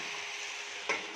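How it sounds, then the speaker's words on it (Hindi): Vegetables and cauliflower stalks for Bengali chorchori fry in a pan with a steady, close hiss of sizzling, broken by a brief louder crackle near the end. "तो ये सारा सब्जी हम फ्राई कर रहे हैं।"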